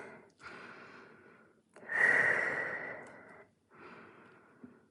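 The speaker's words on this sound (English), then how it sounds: "Taking some deep breaths" Deep, slow breaths during a yoga cool-down in child's pose: three long audible exhales and inhales, close and soft, with a breathy, slightly nasal rasp and no speech.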